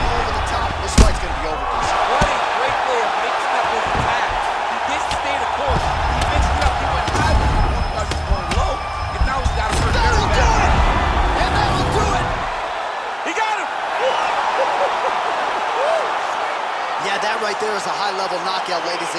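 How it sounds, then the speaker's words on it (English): A virtual arena crowd in the fighting game UFC 4 roars after a knockout, a broad sustained cheer with thuds and slams early on, under steady commentator talk, thinning out toward the end. "Crowd absolutely loving it."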